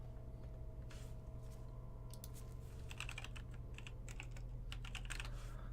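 Keys clatter on a computer keyboard in irregular bursts of quick taps over a steady low hum, with short pauses between runs of typing.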